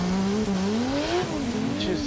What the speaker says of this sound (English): Oh, he's on the rev limiter.